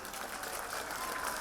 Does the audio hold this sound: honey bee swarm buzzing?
no